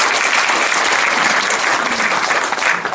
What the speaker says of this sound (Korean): 다시 한번 큰 박수로 맞이해주세요.